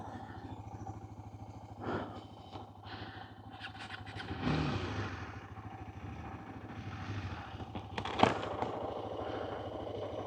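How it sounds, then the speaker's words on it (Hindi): An off-road motorcycle engine on a trail idles and revs under a steady low drone, with bursts of clatter and rising revs around the middle and a sharp knock near the end, with people talking over it. "विपिन बाइक को क्लियर कर दिया।"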